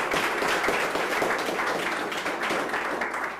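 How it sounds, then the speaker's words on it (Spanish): An audience applauds steadily, a dense wash of many hands clapping at once that fades slightly toward the end. "aplauso nuevamente"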